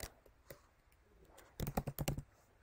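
Computer keyboard typing while a monogram is entered as text for tumbler etching: a few scattered clicks, then a quick cluster of keystrokes near the end, close and moderately quiet, with no talking.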